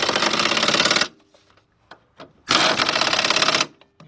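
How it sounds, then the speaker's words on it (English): Valve cover bolts on a Jeep or Dodge engine are tightened with an 18mm deep socket. Two long, loud bursts of rapid power-tool rattling are separated by a quiet gap of small clicks and taps, with no talk. "Let's tighten those bolts up."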